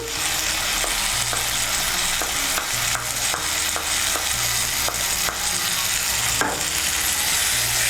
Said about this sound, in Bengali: পোস্ত বাটাটাকে মিশিয়ে নেব